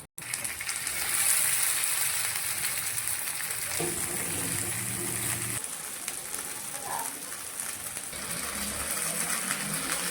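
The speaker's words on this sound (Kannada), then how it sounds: "ನಾನು ಸ್ವಲ್ಪನೇ ಫ್ರೈ ಮಾಡ್ಕೊಳ್ತೇನೆ" Sardines sizzle in hot coconut oil in a pan as a masala fish fry cooks, a steady close crackling hiss running throughout with a few soft clinks.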